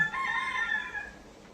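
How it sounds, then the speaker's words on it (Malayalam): A rooster crows once in the morning, a single drawn-out call heard clearly at moderate distance against a quiet background. "കോഴിയിൽ നിന്നാണ് സ്റ്റാർട്ട് ചെയ്യുന്നത് തോന്നുന്നു."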